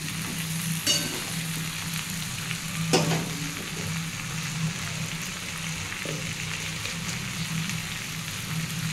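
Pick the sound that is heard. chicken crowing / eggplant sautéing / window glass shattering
eggplant sautéing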